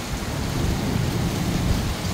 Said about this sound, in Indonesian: Ini suara petir menggelegar ya di langit kota Mekah ya.